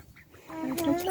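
Chickens kept in a homemade coop let out honking, squawking calls that build in loudness over about a second, close to the listener.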